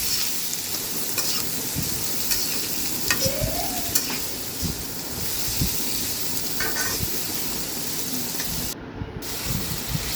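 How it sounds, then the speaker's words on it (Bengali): Sliced onions fry in hot oil in a kadai, giving a steady loud sizzle with intermittent scraping and clinking as a spoon stirs them, close and continuous throughout. "পেঁয়াজগুলো আমি 5 মিনিট ভেজে নিব।"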